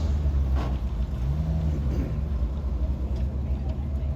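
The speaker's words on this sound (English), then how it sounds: "The soft skin vehicles, getting out of the way here." Soft-skin military trucks and cars drive off during a WW2 battle re-enactment at Tankfest, a steady low engine rumble with a passing hum, heard at moderate distance under open-air ambience.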